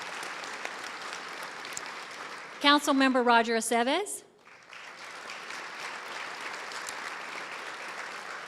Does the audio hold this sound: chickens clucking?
no